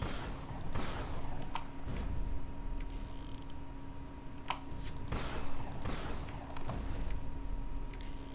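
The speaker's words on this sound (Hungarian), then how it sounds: "Mindig újra töltök kettő lövés után." Shots and reloading from the video game Gun ring out in a western Indian-attack scene, sharp repeated bangs and mechanical clacks at irregular intervals over a steady dense background, loud and close.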